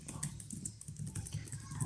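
Quiet, rapid typing on the Huawei MatePad 11 keyboard: soft, close key taps in an uneven rhythm, alone.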